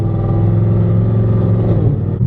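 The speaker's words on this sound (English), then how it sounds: "That exhaust sounds really raunchy" A loud, deep exhaust rumble runs continuously, throaty and close, with a slight swell as the engine revs.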